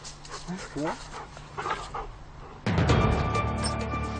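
GIGN police dogs whimper in short, rising, high-pitched cries, followed by a sudden loud, steady roar that covers them.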